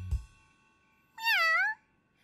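A cartoon cat gives a single clear, bright meow that bends down and back up, loud and close, after a short thump and quiet pause, alone without talk.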